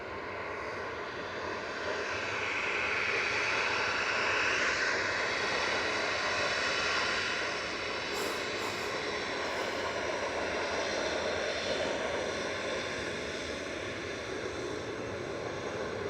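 A jet airliner departing Manchester Airport roars steadily in the distance, a broad, faint rushing drone that swells slightly in the middle and holds without talk.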